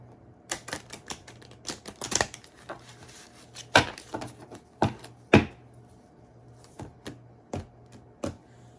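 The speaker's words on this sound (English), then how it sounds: "going to shuffle this deck one more time" Irregular crisp taps and flicks of tarot cards being shuffled close by, spaced unevenly with quiet gaps between; no talking.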